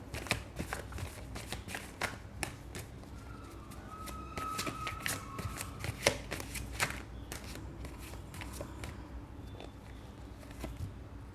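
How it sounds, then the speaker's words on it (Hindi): Tarot cards are shuffled and drawn from the deck in quick bursts of crisp riffling and flicking, with fainter soft taps and slides between them and no voice. "एक और कार्ड निकालते हैं, चलो।"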